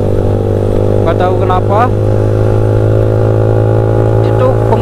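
A Honda Sonic motorcycle on the move, its engine a steady, loud drone with a noisy gear set whirring underneath, while someone talks over it throughout.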